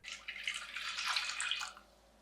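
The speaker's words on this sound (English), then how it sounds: "Now we add in the dashi stock," Dashi stock pours steadily into a medium pot for about two seconds, a bright splashing rush that then stops, with no talking.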